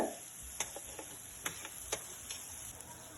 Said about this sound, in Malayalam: കുറച്ച് സമയം അടച്ച് വെച്ച് ഒന്ന് വേവിക്കുക നന്നായിട്ടൊന്ന് ഇളക്കുക